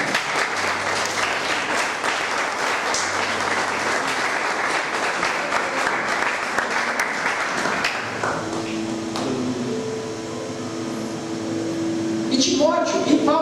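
A church congregation applauds at a sermon, dense sustained clapping that fills most of the stretch, then thins out as music tones and a voice take over near the end.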